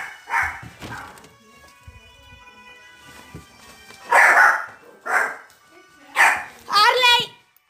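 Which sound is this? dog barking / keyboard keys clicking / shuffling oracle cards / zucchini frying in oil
dog barking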